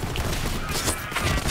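Gunfire and explosions in Borderlands 3 burst continuously over the whole stretch, dense rapid reports layered with booming blasts, loud and busy with no pauses.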